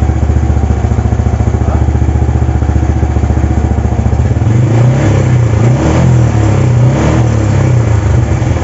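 A Yamaha Jupiter Z1 fuel-injected motorcycle engine runs loud and close throughout, holding a steady idle before being revved repeatedly in rising and falling bursts, with no talking.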